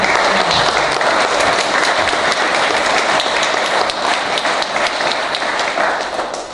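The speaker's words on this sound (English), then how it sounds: "Let's give all of our winners a round of applause." A room full of people at a town board meeting claps for local contest winners, steady full applause holding strong throughout before tapering slightly at the end.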